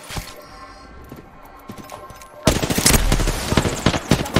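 Gunfire in the battle royale game Apex Legends breaks out suddenly after a quieter stretch, loud rapid automatic bursts and impacts filling the last two seconds over low game ambience.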